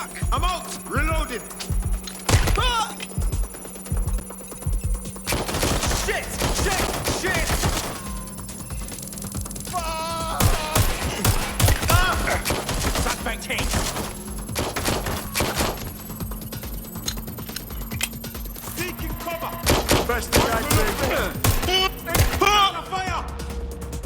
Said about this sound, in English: Shots fired! Providing suppressive fire!